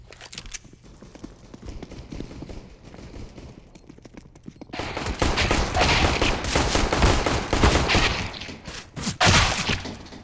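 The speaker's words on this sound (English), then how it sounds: "A lot of gunfire being exchanged" Rapid bursts of gunfire traded in a CS:GO esports match, starting as scattered quieter shots and swelling into a dense, loud fusillade of overlapping rifle fire.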